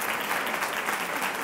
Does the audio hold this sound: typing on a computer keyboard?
no